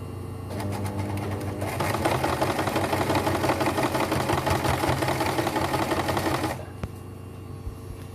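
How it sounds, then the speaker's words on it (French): A sewing machine stitches a fabric face mask in one continuous, rapid mechanical run lasting several seconds, close and loud, then stops abruptly, leaving only faint room noise. "Donc je poursuis la couture jusqu'au bout."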